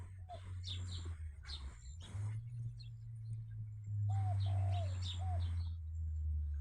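Pigeons coo in soft, rolling calls over a low steady hum, with a few short chirps and light rustling among the birds, and a brief break before the cooing swells again.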